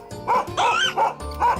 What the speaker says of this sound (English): That's a dog barking.